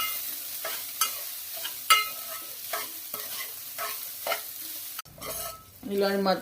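Cooked rice is stirred and mixed in a frying pan with an ajwain (carom seed) tempering, giving close, rhythmic scraping strokes about once a second over a soft sizzle, with a brief clatter near the end.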